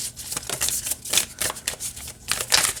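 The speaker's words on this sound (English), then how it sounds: "let's see if it shuffles well" Oracle cards from the Divine Codes deck are shuffled by hand in quick, bright riffling bursts, each lasting a fraction of a second and separated by brief pauses, close and clear with no talk.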